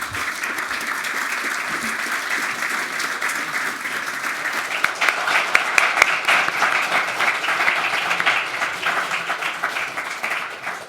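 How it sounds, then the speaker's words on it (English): An audience at a business anniversary event gives a final round of applause for two keynote speakers, a sustained, fairly loud burst of clapping across the room with a few sharper claps. "please join me with a final round of applause for our two brilliant keynote speakers"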